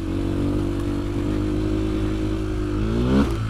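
A Fantic 125 motorcycle engine drones steadily at close range, then revs sharply upward near the end while gathering speed for a small jump, loud and without talk.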